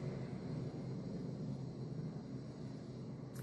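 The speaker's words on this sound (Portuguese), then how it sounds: "Um helicóptero passando." A steady low rumble of a helicopter passing overhead, droning evenly throughout at moderate distance with no voices.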